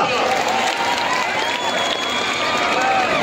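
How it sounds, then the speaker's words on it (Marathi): A large crowd at a Dahi Handi festival in Nanded claps loudly and steadily in a dense, continuous wash of applause, with voices mixed in throughout. "जोरदार टाळ्या वाजल्या पाहिजे सगळ्यांच्या"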